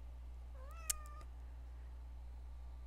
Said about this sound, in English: but that is my cat Ace howling at me in the background.